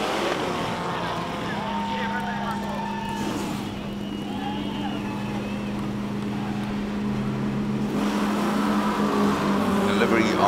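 A Subaru 2.5 litre race car accelerates away at a hillclimb, a steady engine drone that holds under commentary and wind noise, with a rising surge toward the end.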